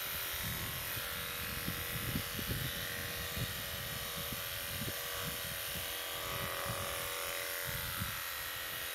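An electric sheep-shearing clipper buzzes steadily while crutching wool from around a ewe's udder and between her legs, a constant close motor drone with small irregular bumps as the comb works through the fleece.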